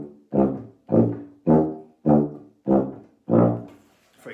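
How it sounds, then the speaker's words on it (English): A tuba sounds a series of separate sustained, breathy low notes, each swelling and then fading, with short silences between them, played alone and close up. "So if on my tuba, it would sound like this."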